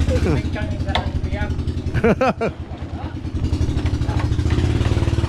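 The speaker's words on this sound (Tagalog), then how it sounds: "ang lakas naman ng makina nila." A loud outrigger boat engine runs steadily throughout, a constant low mechanical drone with clattering, while people talk over it.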